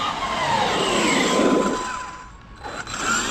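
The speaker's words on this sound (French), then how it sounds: "Il faut toujours penser à l'accélération progressive" Homemade falconmobile car's engine accelerates steadily and loudly for about three seconds, dipping briefly before rising again, with no talk over it.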